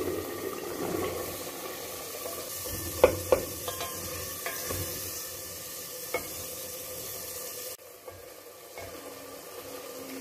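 Masala for chickpea curry fries in a pan with a steady low sizzle, broken by a few clinks and scrapes of a spoon stirring, ending in a slightly quieter simmer.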